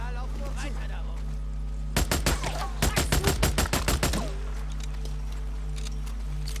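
A rapid burst of about a dozen close, loud gunshots in Days Gone, fired in quick succession over a steady background hum, with talk heard before and after.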